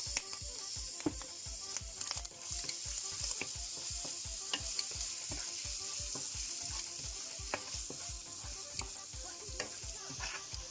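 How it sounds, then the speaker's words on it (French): Shrimp with chopped garlic sautéing in a pan for a Moroccan chicken-with-olives meal, sizzling steadily with regular rhythmic scraping stirs throughout, close and alone without talk. "On fait revenir les crevettes. Je vais rajouter de l'ail haché."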